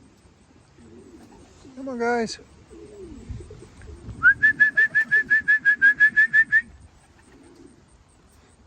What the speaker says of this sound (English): These are all cockbirds.